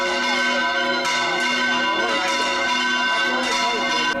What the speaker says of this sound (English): its bells toll for funeral.